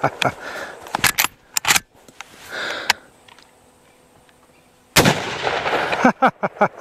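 An 1895 Russian carbine fires at jugs outdoors: several loud, sharp, close shots come in a quick cluster, then a pause, then a louder blast followed by more clicks and rapid bangs.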